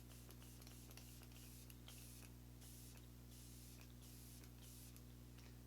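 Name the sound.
setting spray misted onto face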